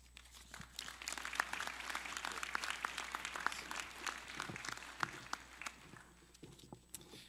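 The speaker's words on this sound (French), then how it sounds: "Merci pour les applaudissements." An audience in a hall applauds at a university graduation ceremony at UQO in Gatineau, a crackling spread of clapping that swells and then thins toward the end, moderately distant and unaccompanied by speech.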